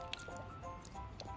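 Watery slime activator poured into a slime mixture, giving soft wet squishes and drips at close range over a steady background hum, with a faint voice briefly present.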